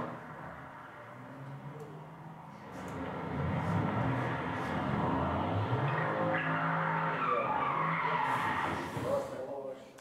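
A car skids and drifts, its tires squealing in drawn-out rising and falling tones that swell louder midway, with a voice talking over it.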